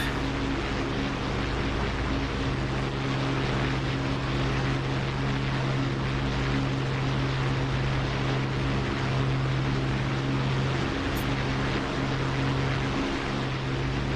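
A propeller warbird's piston engine drones steadily in the DCS flight simulator, a loud continuous close roar with a sustained low hum throughout and no speech.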